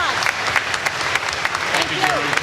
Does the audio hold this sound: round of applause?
yes